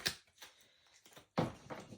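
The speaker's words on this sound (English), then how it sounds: "I'm just going to shuffle that again" A deck of archetype oracle cards shuffled during a reading, giving several brisk papery riffles and slaps, with a louder burst of card noise toward the end.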